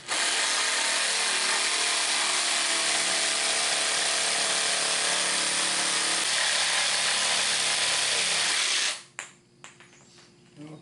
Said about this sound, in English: I salvaged some sound planks from the wood pallets, so we are going to just cut off these nail holes.